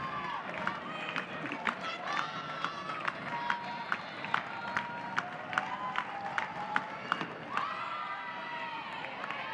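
Crowd noise at a college softball game between Oklahoma and Iowa State, a steady roar of cheering with scattered claps running throughout, moderately loud with a swell near the end.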